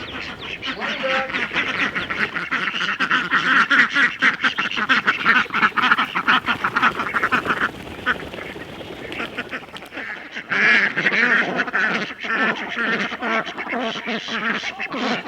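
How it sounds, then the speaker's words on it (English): A flock of ducks quacks loudly and continuously in rapid overlapping bursts, close by, with a brief lull before the chorus resumes. "you miss seeing the ducks come out for their morning run"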